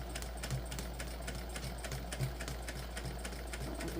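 A sewing machine stitches a Blossom crossbody bag in a steady, fast run, its rapid needle taps even and continuous over a low electrical hum, fairly quiet and close.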